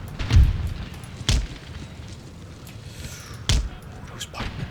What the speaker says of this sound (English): The artillery has been absolutely key critical to us here.